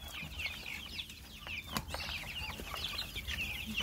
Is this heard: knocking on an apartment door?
no